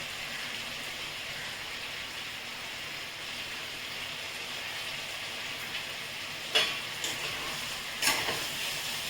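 Spiced chicken and mixed vegetables with Kashmiri chili powder and salt sauté in a pan, giving a steady close sizzle throughout, with a couple of sharper scraping stirs near the end.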